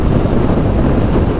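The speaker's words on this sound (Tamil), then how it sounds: "இந்த இடத்துல ஓப்பன் ஏரியா செம்மையாக காற்றடிக்குது." Wind in an open area buffets the microphone during a motorcycle ride, a loud, steady low rumble that fills the whole short stretch without any voice.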